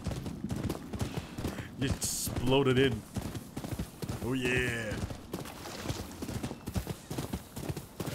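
Horse hooves clatter in a quick clip-clop run in Rise of the Ronin while a horse whinnies twice. People talk over it throughout.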